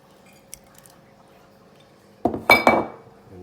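An egg dumped into a bowl of noodles: quiet at first, then a cluster of three or four close wet clinks and squishy splats against the bowl near the end.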